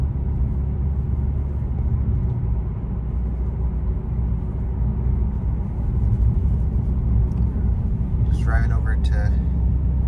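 A 2015 BMW M3 F80 driving around town, steady low engine rumble and road noise from inside the car, with a brief voice near the end.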